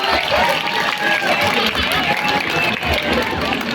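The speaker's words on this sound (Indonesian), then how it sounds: "Tepuk tangannya Tangannya dong." A crowd of middle school students applauds a student council candidate at a school assembly, steady dense clapping filling the room without a break.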